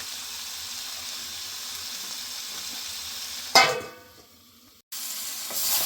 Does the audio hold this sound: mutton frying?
yes